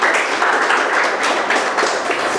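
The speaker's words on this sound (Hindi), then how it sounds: "जोरदार तालियों से उसका स्वागत कीजिए" Steady, dense applause fills a school Hindi Diwas celebration as a seventh-grade girl comes up to recite a poem, many hands clapping continuously at close range with no voices over it.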